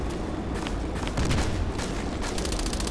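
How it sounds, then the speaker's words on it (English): Grenade explosion in the first-person shooter Contract Wars, a dense booming burst with crackling debris amid ongoing game gunfire, steady and loud throughout. "That was a grenade."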